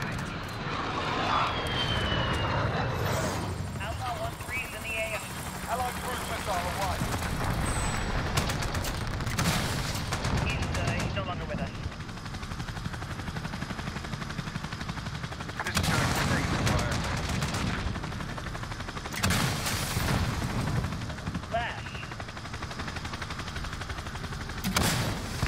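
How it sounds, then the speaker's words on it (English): A chopper gunner helicopter in the Modern Warfare video game fires continuous bursts over a droning rotor and engine roar, with repeated heavy volleys and explosions throughout, loud and dense, with occasional speech beneath. "Should I go on and jump in the chopper gunner?"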